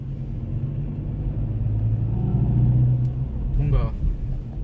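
A Kia K3 GT gasoline turbo's virtual engine sound from its sound generator drones low and steady at low RPM, a rough, diesel-like rumble inside the cabin, with a brief voice near the end.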